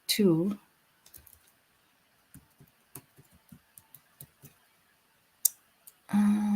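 Sparse, light keyboard key clicks tapping at an irregular pace, close by, with a person speaking briefly at the start and end.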